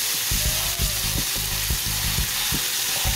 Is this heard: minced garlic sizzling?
yes